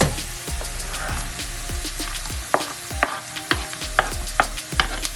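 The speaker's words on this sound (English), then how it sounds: "Now that the onions are brown and you hear that sizzling sound" Browned onions and vegetables fry in a pan for a quick beef patty, giving a steady close sizzle broken by sharp clicks and scrapes as the mix is stirred.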